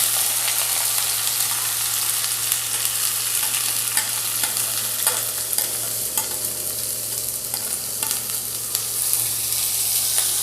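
Finely chopped onions sizzle and fry in a hot pan, with occasional scraping stirs over a steady crackling hiss.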